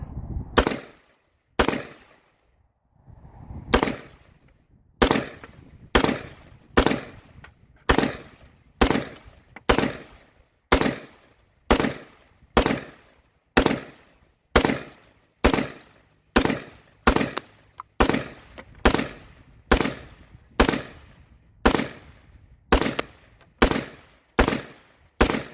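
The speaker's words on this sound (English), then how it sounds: "So let's try this American Eagle Federal ammunition first here." A Wolf T91 rifle fires American Eagle Federal ammunition at a range, roughly thirty sharp, loud single shots in a steady, fairly even rhythm, each cracking close and echoing briefly, with no talk.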